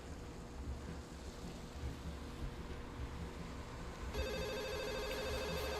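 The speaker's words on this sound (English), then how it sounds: "Familiar soft ringing begins to sound from Lily's side." A mobile phone ringtone in the visual novel Katawa Shoujo starts in the last couple of seconds, a steady soft repeating ring over a background of low ambient noise.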